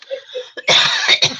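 A woman coughs hard a few times in close succession after a brief stretch of quieter throat sounds, the coughs loud and harsh right near the microphone.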